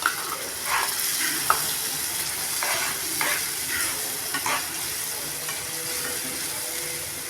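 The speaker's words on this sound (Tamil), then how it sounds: "அடுத்தது தக்காளி ரெண்டு அரைச்சிருக்கோம் அதையும் சேர்த்துக்கிறோம்" Ground tomatoes go into a hot pan for a Maharashtra dhaba-style chicken gravy, stirring and sizzling steadily and close by with scraping spoon strokes through the frying, no voices.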